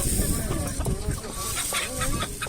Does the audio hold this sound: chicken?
yes